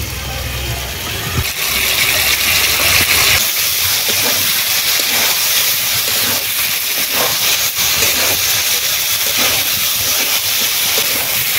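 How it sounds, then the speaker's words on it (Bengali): Fried potatoes go into a pan of sizzling mustard and poppy seed spice paste with live pond lata fish, a loud, continuous close hiss of frying with scraping and stirring clatter throughout. "এবারে দিয়ে দেবো ভেজে রাখা আলু।"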